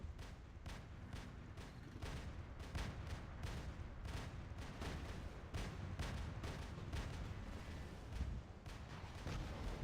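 Heavy machine gun prototype firing in the War Robots game, a rapid run of booming, percussive bursts at a fairly slow rate of fire, fairly faint overall and continuing across the whole stretch.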